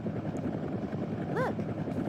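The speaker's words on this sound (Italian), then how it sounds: "Oh, l'elicottero." Helicopter in the 1997 The Lost World: Jurassic Park arcade video game, a steady rotor drone under game noise, with a brief rising synthetic sweep near the end and no talk.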